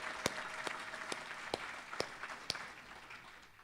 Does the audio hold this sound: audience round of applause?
yes